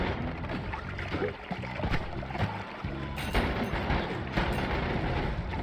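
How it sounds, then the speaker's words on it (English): Repeated booming blasts and rumbling bursts from explosions in the video game Noita, dense and continuous with sharp cracks layered over a low roar. "That's getting a bit big on the explosions over here"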